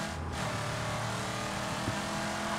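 A tour bus engine in the Mad Max video game, labouring through thick desert sand dunes, gives a steady, continuous low rumble that stays at a constant level, with no voices over it.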